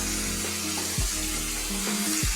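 Spices fry in hot oil for mutton dal with a steady, loud, hissing sizzle, joined by tonal background music and a few low thumps.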